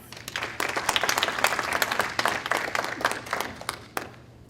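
Audience applause at a reception in a hall, a steady burst of many hands clapping at moderate volume for a few seconds before tapering off.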